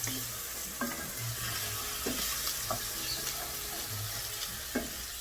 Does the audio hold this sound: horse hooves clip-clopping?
no